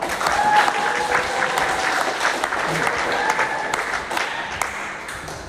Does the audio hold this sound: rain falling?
no